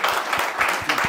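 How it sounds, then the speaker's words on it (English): An audience claps in a round of applause, a close, dense patter of many hands that runs steadily through the moment. "Let's give him a massive round of applause."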